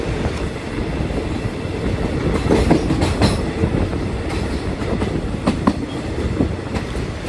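Rapid train 141 rounds a curve at night, heard from inside the last car: a loud, steady rolling roar with a rhythmic clickety-clack of wheels over rail joints and no voices.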